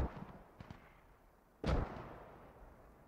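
Mortar rounds firing in the military shooter Squad: a couple of faint distant thumps, then one loud, close, booming blast that trails off into a rumbling decay.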